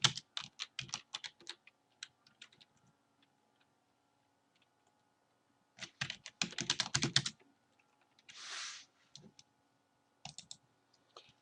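Someone types on a computer keyboard in quick bursts of close, crisp key clicks separated by pauses, with one short soft whoosh in between; no one speaks.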